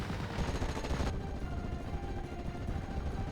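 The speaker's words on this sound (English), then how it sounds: "Rocket run coming on in, will pin down and destroy the AT gun." A Typhoon aircraft's rocket run strikes in the Company of Heroes 2 battle game, a dense rumbling barrage of rapid blasts and roaring explosions that holds loud and steady throughout with no talk.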